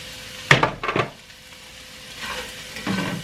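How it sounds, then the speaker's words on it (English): Peppers and onions seasoned with salt and pepper are stirred in a pan, giving a few scraping strokes of the utensil over a light sizzle, with short pauses between the strokes and no talking. "So we're gonna go ahead and mix that up with our peppers and onions"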